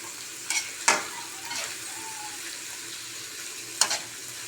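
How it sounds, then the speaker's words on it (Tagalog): Egg and ampalaya (bitter gourd) fry in a pan with a soft, continuous sizzle, broken by a few sharp scrapes and clacks as a utensil stirs them. "ituloy pa natin hanggang sa maluto talaga yung itlog lahat"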